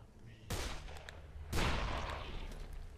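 Two close, loud gunshots from Dead Island, about a second apart, each a sharp crack followed by a booming echoing tail over quiet background ambience.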